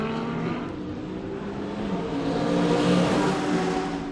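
A Lamborghini GT race car accelerates out of turn 19 at Circuit of the Americas during a GT World Challenge America race, a steady mid-distance engine drone that swells louder toward the end, with no voices.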